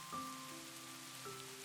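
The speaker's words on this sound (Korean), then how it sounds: "빗소리" Rain falls steadily in a garden with a pond and trees, a soft, even hiss that fills the short stretch, quiet and constant beneath a faint tonal hum.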